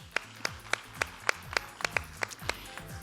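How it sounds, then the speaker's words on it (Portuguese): A sharp, regular series of claps or thumps from a conference audience, roughly one every quarter second, with low rumbling underneath; it sounds thin, more like a few people clapping than a full crowd. "Aplausos, por favor."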